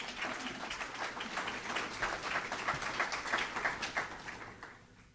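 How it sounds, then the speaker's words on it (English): An audience at a county candidate forum gives a steady, moderately quiet round of clapping that tapers off toward the end. "Please give them a round of applause."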